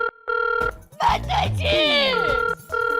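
A telephone rings at home in a comedy film scene, steady electronic bell bursts opening and closing the moment, with people talking loudly over the middle of the ringing.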